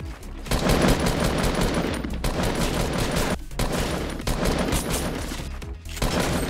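Rapid bursts of rifle fire from an infantry rifle in the video game Fortnite (Project Era) fill the scene densely, with sustained volleys broken by a few brief gaps and no voices.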